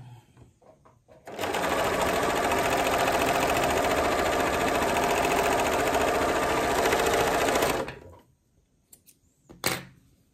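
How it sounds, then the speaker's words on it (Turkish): Sewing machine stitching fabric in one continuous run of about six and a half seconds, a fast, even mechanical whirr, close and loud, with a few quiet handling clicks before and after. "Önce açık haldeyken kumaşımı şöyle bir dikiyorum."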